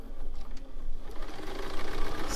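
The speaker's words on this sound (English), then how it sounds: "sew across the top" A sewing machine runs steadily, stitching across the top of a fabric book page, with a continuous close mechanical whir and a faint rhythmic rattle throughout.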